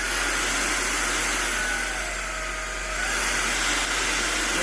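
A household vacuum cleaner runs in vacuum mode, a loud steady whooshing roar that dips slightly midway and holds close and constant throughout.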